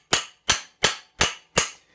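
Five crisp, evenly spaced hammer strikes on a nut threaded onto a 1947 GMC steering box part, each ringing briefly, loud and close with nothing else heard.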